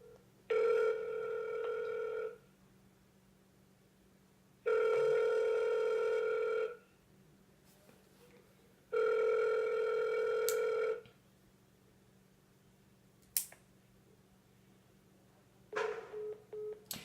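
During a cold call, a telephone rings through the earpiece in three long, evenly spaced bursts separated by quiet gaps, then a couple of faint clicks and a brief rustle as the line is picked up and hung up.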